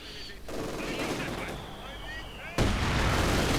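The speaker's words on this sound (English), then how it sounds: "More incendiary rounds, MG crew burning up." Heavy wartime gunfire and incendiary rounds strike a machine-gun crew in the Company of Heroes 2 strategy game, a dense roar of shots and bursts that jumps louder near the end, with a commentator talking over it.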